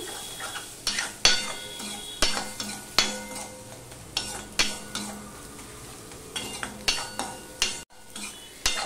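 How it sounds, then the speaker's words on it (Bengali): Egg sizzling in a pan while a utensil repeatedly knocks and scrapes against the metal in sharp, uneven taps, close up. "ডিমটাকেও আমি ভেজে নিচ্ছি।"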